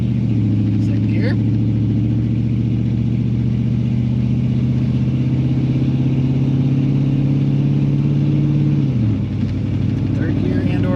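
A Lincoln Mark VII LSC, a rare field find, pulls in second gear with a loud, steady engine drone that rises in pitch, then drops sharply near the end as revs fall, heard from inside the car.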